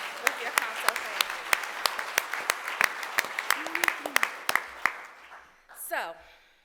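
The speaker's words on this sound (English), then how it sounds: "Clap one more time if you are happy to be here with your Comto family." A conference audience in Fort Lauderdale bursts into dense, steady clapping with sharp individual claps standing out, then the applause fades quickly and a voice briefly follows at the end.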